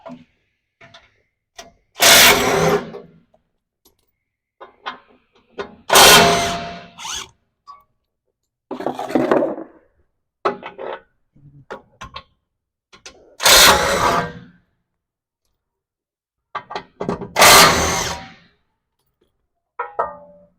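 A power tool removes 12mm hex bolts from the front bar of a 2024 facelift Landcruiser 79 Series, heard as about five loud, close bursts of whirring rattle, each a second or two long, separated by quiet gaps with light clicks.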